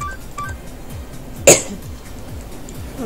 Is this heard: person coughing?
yes